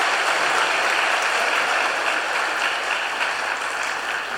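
Church congregation applauding during a Sunday worship service, dense sustained clapping filling the room steadily for the whole stretch, loud and even with no voices over it.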